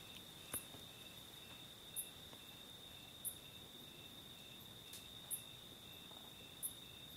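Crickets trill faintly in the background with a steady, unbroken high chirp, punctuated by soft, regularly spaced clicks over quiet night ambience.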